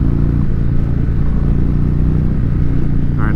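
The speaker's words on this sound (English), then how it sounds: "Listen to the exhaust." Exhaust note of a 2019 Indian Chieftain motorcycle in touring mode, a steady deep low rumble that stays loud and close throughout with no speech.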